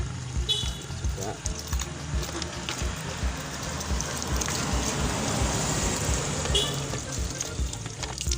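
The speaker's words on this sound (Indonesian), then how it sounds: "Setelah kita siram pakai air ya" Running water rinses dirt off the disassembled parts of a Solaris Lion Star hot-water thermos, a steady splashing wash with faint clinks of the parts, heard close and alone.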